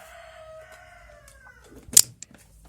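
A family-raised farm rooster crows once in a long, falling call that fades out, followed by a brief sharp clucking burst; the sound is fairly close and clear against a quiet outdoor background.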